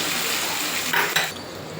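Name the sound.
stirring and frying chicken curry with ginger paste and tomato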